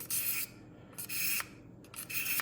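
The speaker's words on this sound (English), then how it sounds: "it's just a touch-up sharpener" A kitchen knife drawn across the ceramic side of a small touch-up sharpener, three rasping strokes separated by short pauses, close and clear with no talking.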